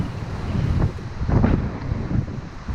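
Wind buffets the microphone during a cold, muddy outdoor run, a loud rumbling, gusting roar that swells and eases with no voices.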